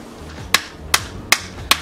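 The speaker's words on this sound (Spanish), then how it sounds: "con un martillo de goma" Four sharp, evenly spaced rubber mallet blows on a suspension arm bushing of a BMW E46 Compact, close and loud, with a dull rubbery thud over a low background hum.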